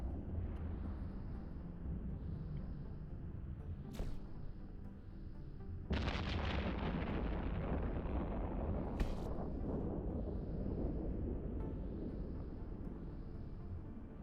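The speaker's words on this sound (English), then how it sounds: "It's all these missiles coming at me." Missiles slam into a ship in EVE Online, a low rumbling barrage with a sharp burst of impacts midway, heavy and sustained under a droning hum.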